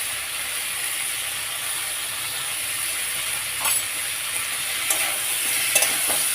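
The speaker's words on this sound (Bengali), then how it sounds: "এই মশলা সমস্ত সবজি দিয়ে দিলাম, ভাজা সবজি এগুলো একটু কষে নিই।" Vegetables sizzling in a pan with spices and coriander while being stirred, a steady bright frying hiss throughout with a few soft scrapes near the end.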